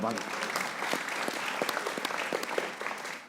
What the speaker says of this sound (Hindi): आज बैठे उसकी तालियां बजाइए।